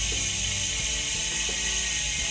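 Rapid, even ratchet clicking from the 36-engagement-point rear hub of an all-carbon Superteam Ultra 2023 rim brake wheel, a continuous close-up buzzing tick as the wheel freewheels.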